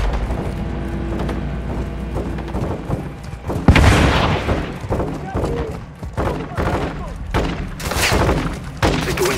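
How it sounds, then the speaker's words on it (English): Rocket fire and explosions in the video game Call of Duty: Modern Warfare II: heavy booms and bursts of gunfire crash through the battle, with loud impacts at intervals and shouted voices over the combat. "Crash site is taking rocket fire from building 2!"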